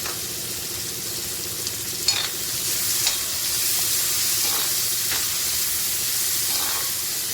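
Onion sautéing in a pan for a gavar bhaji, giving a steady hiss and sizzle that swells slightly midway, with a couple of faint stirring clicks and no voices.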